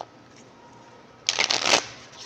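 A Wiser Tarot deck, similar to Rider-Waite, is shuffled in a quick riffle of crisp card flutters lasting under a second after a quiet pause.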